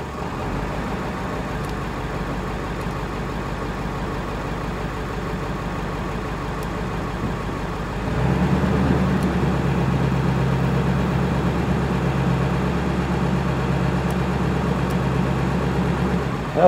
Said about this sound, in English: switching from 0 to 1 gives us our high idle